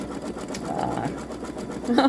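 A Babylock Solaris Vision embroidery sewing machine stitches a design onto a t-shirt, running with a steady close whir and a slight rise in pitch near the end.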